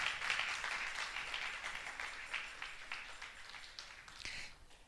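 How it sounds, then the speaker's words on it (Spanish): Church congregation applauding, a faint, steady wash of many hands clapping that goes on throughout the clip and thins toward the end. "Dale un fuerte aplauso al Señor."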